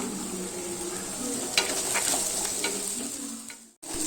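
Ten cloves of pounded garlic fry in a pan for a stir-fry, a steady sizzle with a few scraping stirs near the middle, ending in a brief sudden drop.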